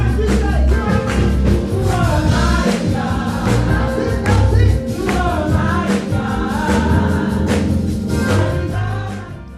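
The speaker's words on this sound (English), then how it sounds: "This is the sound of Black people rejoicing." Congregation rejoicing during a service at the Second Baptist Church in Monrovia, California: dense, loud, continuous crowd sound with music and voices, steady energy throughout.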